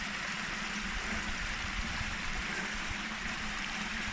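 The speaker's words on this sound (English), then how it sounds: "This is called the Robbers Waterfall." The Robbers Waterfall on a Scottish mountain hillside roars as a steady, unbroken rush of falling water, a dense constant wash with no voices over it.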